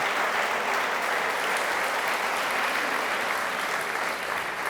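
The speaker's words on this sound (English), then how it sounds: "Let's give an applause for our guests." Studio audience applause for the guests of a celebrity science show, a steady, dense clapping that fills the whole stretch at even loudness with no voices over it.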